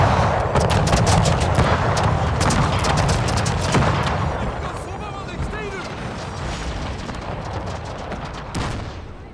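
Musket volleys crackle in the video game Pike & Shot Total War, dense overlapping battlefield gunfire and booms rolling steadily at loud level, with game audio throughout.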